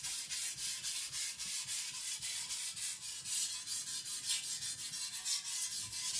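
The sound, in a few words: sharpening a custom Chinese cleaver on a stone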